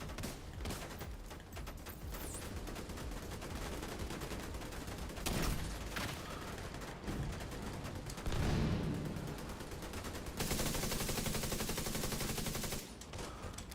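Sustained automatic gunfire in The Division 2 fills the whole stretch, with overlapping rapid shots and heavier impacts. It sounds quieter and more distant, and the firing shifts in density a few times.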